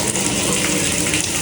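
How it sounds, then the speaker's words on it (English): Hotel bathroom shower running just after being switched on, with a loose shower head: a dense, loud, steady hiss of spraying water filling the whole clip without break. "we will go ahead and turn the shower on now"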